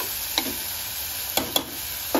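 Green chili, bell pepper and onion sauté in a pan with a soft, steady sizzle and a few sharp stirring clicks of a utensil.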